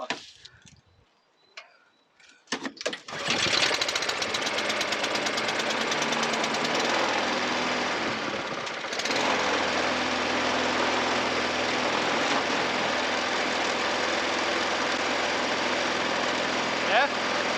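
A Briggs and Stratton 450E lawnmower engine catches after a couple of pulls and settles into a loud, steady running drone. It holds close and constant for most of the stretch, with a brief dip midway.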